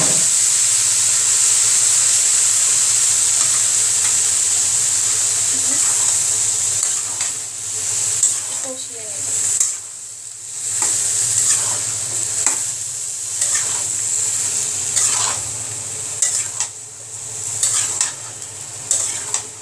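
Soft mixed vegetables dropped into a hot pan after the masala has been cooked down, a bright hissing sizzle that steams on, then repeated scraping stirs and clatters as they are tossed, close and without talk.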